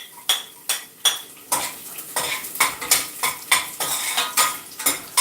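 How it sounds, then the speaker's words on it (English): Garlic and onion sautéing in about two tablespoons of oil, with a spoon clanking and scraping against the pan in quick, repeated strokes over a crackling sizzle, close and fairly loud. "We're just sauteing the garlic now, guys. And the onion."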